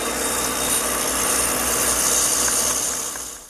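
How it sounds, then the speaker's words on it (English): A drill press with a mortising attachment cuts a mortise in oak: a steady, loud mechanical whine with grinding wood-cutting noise, continuous for a few seconds and tapering off at the end. "Now the mortise is cut with this attachment I have on my drill press."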